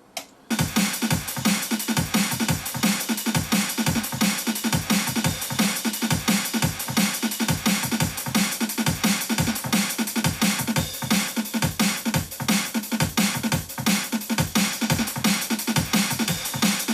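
Layered snare drums in a studio mix hit in a fast, steady pattern with bright, noisy cracks over a thumping beat, loud and continuous with no talking.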